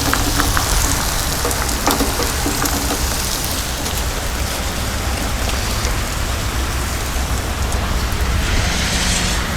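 Rain pours steadily onto a covered deck beside a Blackstone griddle on a spring or summer day, a loud, dense, unbroken patter filling the whole stretch with no voices.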